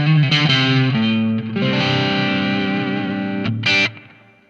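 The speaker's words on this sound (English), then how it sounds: "Still on that channel, I can activate the crunch mode." Electric guitar played through a Marshall MG30GFX amp on its crunch mode, a mildly distorted, gritty tone ringing out in chords and single notes, close and loud, with no talking.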